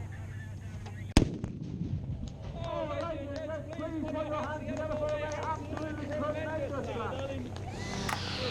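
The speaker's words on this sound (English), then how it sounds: "So this is a 25-pounder field gun. We've loaded the shell and we're going to fire it" A 25-pounder field gun fires a shell at an outdoor military vehicle show: one sharp, loud blast early on, then crowd noise, voices and a vehicle rumbling on through the rest.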